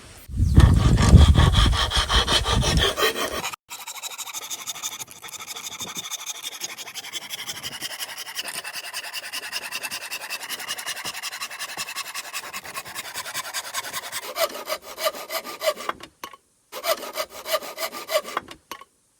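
Extra pieces cut off wooden frames with a hand saw outdoors, a long run of steady rasping strokes after a brief louder rubbing start, with short pauses near the end.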